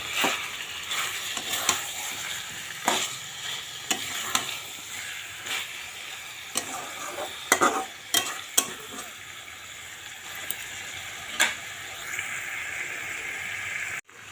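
Chicken masala with fried potatoes sizzling in a pan, a continuous hissing fry broken by frequent sharp scrapes and knocks of a spoon stirring against the pan, close and moderately loud.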